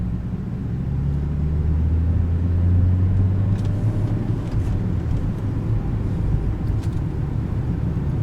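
A BMW F32 435 with an Active Autowerke performance exhaust drones at low RPM, around 1400, a loud steady deep rumble heard close while driving, with no talking.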